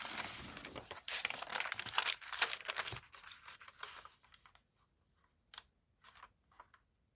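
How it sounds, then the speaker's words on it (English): Coffee-dyed paper crinkles and rustles up close as it is handled, a dense burst of crumpling that thins into a few scattered rustles and taps before quiet. "So I'm going to grab another bit of coffee dyed paper."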